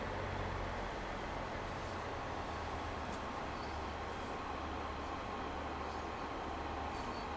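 A diesel Class 150 train runs on the West Cornwall local line in Train Sim World 3, giving a continuous low rumble and engine drone with steady rolling track noise, even and unbroken from start to finish.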